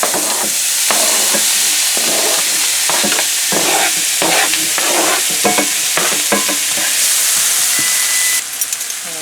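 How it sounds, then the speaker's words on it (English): Chopped pepper and onion sizzle loudly in melted butter in a skillet, with a constant hiss and repeated stirring scrapes and clatters close by. "we're going to add some chopped pepper and some chopped onion"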